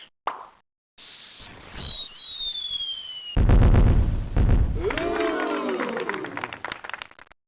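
Fireworks launching and bursting in the 1996 video game Mighty Math Number Heroes: a rising whistle, then loud cracking booms and popping bursts with fizzing sparkle, close and bright.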